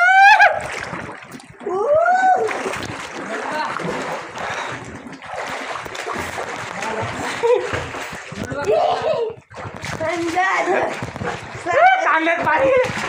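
Water splashes repeatedly as swimmers jump into a well in summer, loud and close, with excited voices shouting and talking over the splashing throughout.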